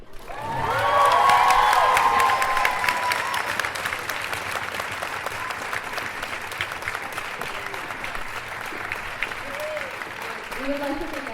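Audience at a school theatre show applauding and cheering loudly, swelling in the first seconds and then settling into steady sustained clapping with scattered shouts.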